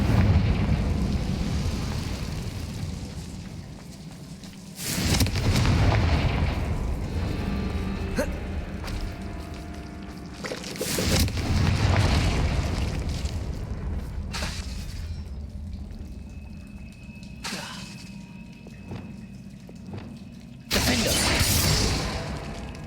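Confringo explosive spell from Hogwarts Legacy, several loud bursts with crackling, shattering tails recurring every few seconds in an enclosed room, with brief speech between blasts.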